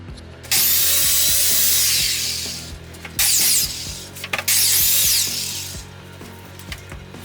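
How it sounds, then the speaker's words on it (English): Loud, steady abrasive scraping of drywall being sanded in long sweeping strokes, with brief pauses and knocks between passes, close up. "If you're sanding like this, you should probably put on a mask"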